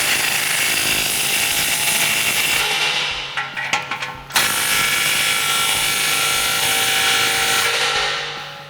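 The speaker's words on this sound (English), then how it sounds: "So now we're going to tighten up these two here at the muffler. Same thing, 16 millimeter with my 3/8 gun." A 3/8 impact gun with a 16 millimeter socket tightening tailpipe clamps at the muffler of a dual exhaust system on a RAM 1500 5.7L: continuous loud whirring, a brief burst of rapid hammering in the middle, then steady running again.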